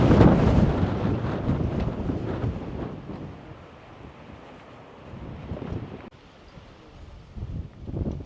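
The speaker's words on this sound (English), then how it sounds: "Super windy." Strong gusting wind on the Mount Diablo summit buffets the microphone in heavy, roaring surges that ease and build again, close and loud with no other sounds.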